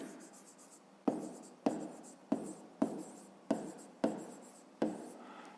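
Pen on paper working a fifth-grade math exercise, heard as a close series of about seven sharp strokes at a steady rhythm, each fading out, in a quiet room.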